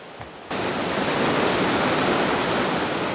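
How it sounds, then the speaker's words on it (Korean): A mountain valley stream on Jirisan rushes loudly and steadily. After a brief quiet start it turns into a constant broadband roar of flowing water, close by. "계곡 물소리가 너무 좋은데요."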